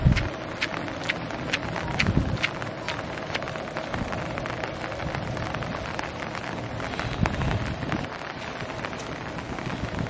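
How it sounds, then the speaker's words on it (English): Heavy rain pours steadily at an outdoor graduation in Korea, a dense, loud hiss sprinkled with sharp drip ticks, lasting the whole stretch with no talk over it. "So actually the rain is quite strong"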